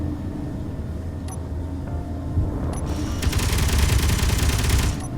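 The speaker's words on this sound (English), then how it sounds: "Oh, we're definitely shooting at something." Space Engineers defense turrets open fire in a survival base with a rapid, steady stream of shots that rises over a low mechanical hum and lasts about two seconds before fading back.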